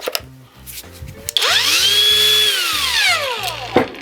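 A GRAND cordless angle grinder spins up sharply to high speed, its whine sweeping upward and holding steady before winding down, close and loud, with a rhythmic electronic beeping pattern heard underneath.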